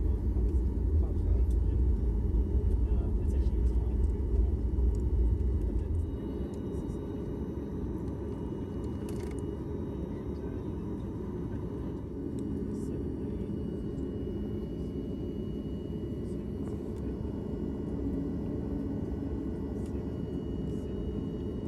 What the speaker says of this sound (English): And here we go with the takeoff from runway 26 right